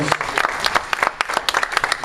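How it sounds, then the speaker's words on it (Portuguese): A church congregation claps in praise during a worship service, with loud, uneven, close applause and voices sounding faintly underneath. "Gostaria que você desse mais uma salva de palmas para o Senhor."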